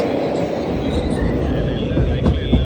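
A train at Varkala railway station in Kerala, on a busy platform, gives a loud, continuous low rumble with faint squealing and clanking near the end.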